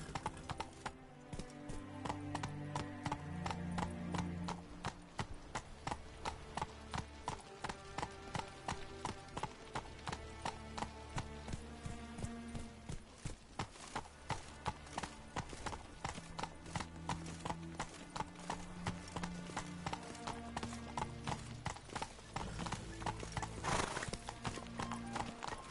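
Horse hooves clip-clop at a steady riding pace in The Witcher video game, the regular beats sounding over background music with an occasional whinny.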